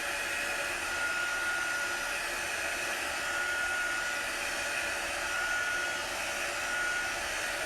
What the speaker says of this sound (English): I'm just speeding up the drying process with my heat tool.